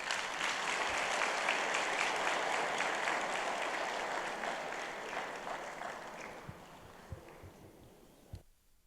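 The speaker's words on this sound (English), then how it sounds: "Ladies and gentlemen, shall we give them a round of applause?" Applause from a townhall presidential debate audience in Accra, a dense, steady crowd clapping that fades gradually and ends with a few scattered claps.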